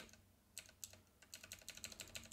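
Quick clicks while playing Decentraland, a burst of short crisp taps in irregular rhythm, close and fairly quiet, resembling keyboard or mouse button presses with no voice.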